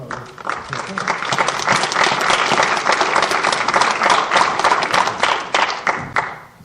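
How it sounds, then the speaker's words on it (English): Audience applause for presenters at a public forum on behavioral health and criminal justice, a dense, steady burst of many hands clapping that lasts several seconds before tapering off at the end. "Let's give a quick round of applause to our presenters,"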